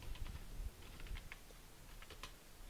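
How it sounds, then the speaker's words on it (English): Soft, quiet clicking of keys on a computer keyboard, an irregular patter of taps close by with no voices. "Just start typing."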